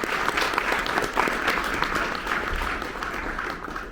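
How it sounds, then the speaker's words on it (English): Steady audience applause for a senator at a legal conference, dense and continuous for several seconds before tapering slightly at the end, with faint voices mixed in. "Let's give her a big round of applause."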